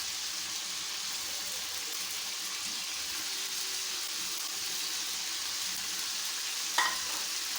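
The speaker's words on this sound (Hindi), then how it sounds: "चिकन हमारी तकरीबन फ्राई हो चुकी है।" Chicken frying in a karahi with tomatoes for Karachi-style Shinwari chicken karahi, a steady close sizzle and hiss running throughout, with a brief clink near the end.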